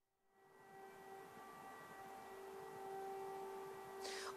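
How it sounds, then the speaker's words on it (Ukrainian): An air raid siren sounding across a Ukrainian region during an alert, a steady distant wail holding a sustained tone, faint and unbroken throughout with no voices. "Ви можете чути звуки сирени"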